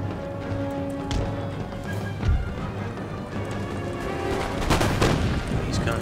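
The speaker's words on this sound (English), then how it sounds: "they're opening fire right now" Line infantry musket volleys crackle in a Napoleonic-era battle in Empire: Total War, with scattered shots, a heavy thump near the middle and denser rolling fire toward the end, under a steady battlefield din.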